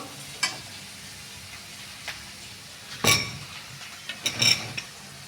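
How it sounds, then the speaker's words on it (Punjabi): Onions are stirred as they fry to light brown in a pan, making a soft low sizzle broken by a few sharp metallic clinks and scrapes of a spoon against the pan. "ਜਿਹੜਾ ਪਿਆਜ਼ ਉਹ ਹਲਕੇ ਬਰਾਊਨ ਕਰਨੇ ਆਪਾਂ"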